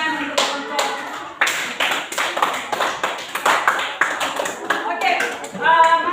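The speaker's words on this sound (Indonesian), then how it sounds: "Mari kita tepuk tangan untuk kelompok." Students in a classroom clap for a group that just finished presenting, in close, lively bursts of hand claps with short pauses between them and voices mixing in toward the end.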